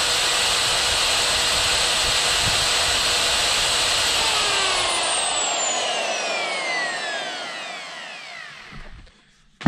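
A die grinder runs off a Power Smart 5150 portable power bank. It gives a steady, loud, high whine, then spins down with a falling pitch and ends with a brief clunk.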